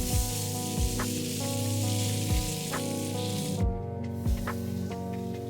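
IKEA-style meatballs browning in a frying pan over medium-high heat, a steady, close sizzle with faint pops and a soft tapping every second or so, with no voices.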